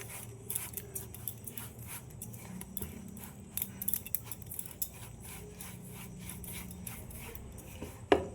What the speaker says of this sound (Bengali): সুজি দই মিশিয়ে নেব